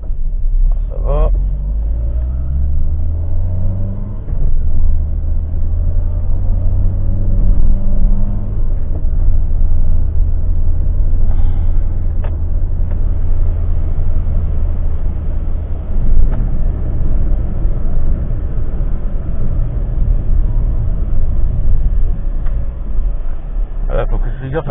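A Citroën AX with a failing head gasket drives on the road with its hood removed, its engine droning steadily and loudly throughout, with someone talking over the noise.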